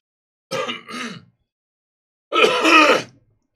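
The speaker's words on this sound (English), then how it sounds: "Did I just cough all over you guys?" Two close, rough bursts of coughing and throat clearing, a short double hack followed by a longer harsh one after a pause.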